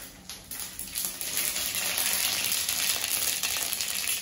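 Mustard seeds sizzle and crackle in hot oil, a bright hiss that swells quickly and then holds steady and close.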